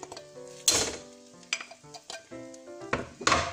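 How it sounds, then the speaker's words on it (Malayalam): Rice and chicken for pulao are stirred in a pan, with a few short scraping strokes coming in separate bursts over a soft, steady tonal background and no speech. "കുറച്ച് ചോറും ഇട്ട് നല്ലതുപോലെ ഇങ്ങനെ ഇളക്കുക"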